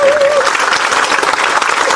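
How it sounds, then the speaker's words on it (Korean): A crowd at a political party's founding convention breaks into dense, loud applause that holds steady for the full moment, with a brief tone at the start. "박수 한번 쳐주세요."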